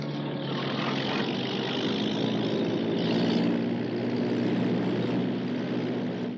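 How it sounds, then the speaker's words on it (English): Propeller airplane coming in for a landing, a loud, steady engine drone with a throbbing hum that swells slightly midway, heard alone without voices. "That's the pickup plane."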